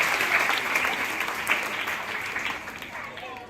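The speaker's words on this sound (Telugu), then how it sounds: "వాడికి గట్టిగా చప్పట్లు కొట్టండి ఒకసారి." Students applaud together in a school hall, steady dense clapping running for several seconds and easing off slightly toward the end, with some voices mixed in.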